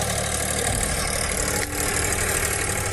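A tractor engine drives over a cabbage crop in a farm field in West Bengal. It rumbles loudly and steadily at close range for the whole stretch, with only a brief dip partway through, and no voices.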